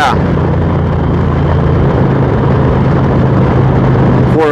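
An Indian Challenger motorcycle engine pulls hard under acceleration, a steady loud low drone heard close up with wind noise and no talk.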